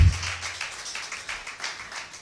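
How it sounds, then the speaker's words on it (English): An audience claps at a public launch event in Lagos. The applause is steady and moderately loud, a dense patter of many hands that continues without pause. "put your hands together for her. Don't stop clapping."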